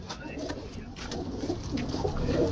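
Soft, low pigeon coos repeat close by over a constant background hum, with a brief murmur of voices.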